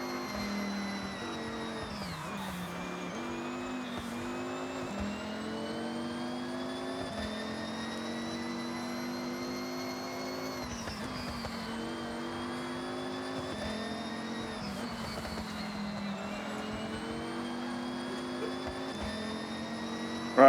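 A 2005 Ford GT in Forza Horizon 6 online racing: a steady, loud engine drone with rising pitch and shifts near 2, 10.5 and 15 seconds, running continuously with no talk.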